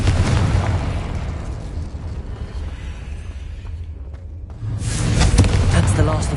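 A Confringo fire spell explodes in the Hogwarts Legacy video game during a fight with spider sacks. Broad, rumbling booms roll on continuously, dip briefly, then swell again loudly near the end.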